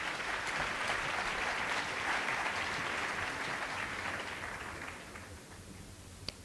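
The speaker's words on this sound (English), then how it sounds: "A round of applause for him." Audience applause fills a DevFest Nairobi 2022 hall as a cyber security engineer comes to the stage, a steady wash of clapping that holds for about five seconds and then thins and fades.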